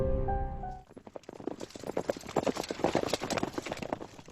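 Horse hooves clip-clop as a radio-show sound effect, a brisk, even run of hoofbeats that follows a brief musical tone, close and prominent.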